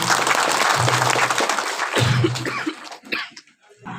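An audience at a public government welfare-scheme event applauds. The clapping is dense and sustained for a few seconds, then thins out into scattered claps and a cough as it dies down.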